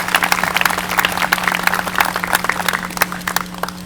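Dense round of applause for Hillsborough veterans at an outdoor Memorial Day ceremony, many hands clapping in a quick, crackling patter at a steady level, with a constant low hum underneath.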